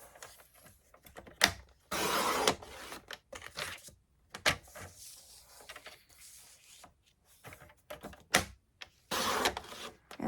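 Paper trimmer blade slicing through a 6x6 square of cardstock, heard as several sharp, close scraping swipes and clicks separated by short pauses, with handling rustle between cuts.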